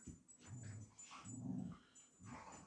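Several dogs whimper, yip and growl softly while playing and ragging around nearby, a restless run of low canine noises with no voices.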